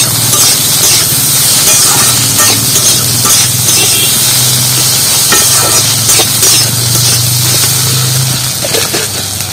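A loud, steady sizzle of taro flowers frying in a pan, with occasional scraping stirs and a low hum running beneath.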